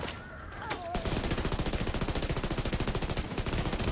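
Rapid automatic gunfire in The Division 2 video game comes as a sustained, loud burst of evenly spaced shots that runs nearly without pause after a brief quieter opening.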